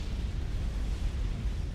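An ACU unit explodes in the real-time strategy game Supreme Commander Forged Alliance, giving a steady, low rumbling roar at moderate volume with no voices over it.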